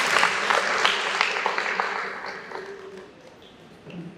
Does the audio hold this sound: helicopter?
no